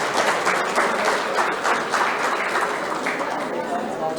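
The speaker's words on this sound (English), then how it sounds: "Let's just give us all a huge round of applause." Audience clapping at a cricket league launch event in Delhi, a dense steady round of applause close by and filling the whole stretch, with voices audible underneath.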